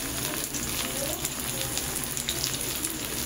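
Yardlong beans and papaya in a hot pan, a loud dense steady sizzle that hisses continuously close up with faint stirring scrapes.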